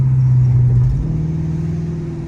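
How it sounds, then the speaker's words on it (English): A car engine rumbles loudly close by, its exhaust note dropping in pitch after a brief rev, then settling into a steady low drone. "his exhaust sound good too"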